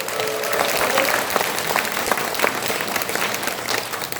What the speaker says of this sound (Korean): 그럼 크게 한번 박수 한번 주세요